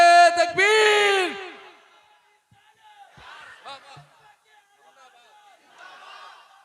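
A large crowd at an Urs gathering roars a Takbir chant in unison, a loud sustained burst of many voices, followed by quieter, scattered shouts and calls further back.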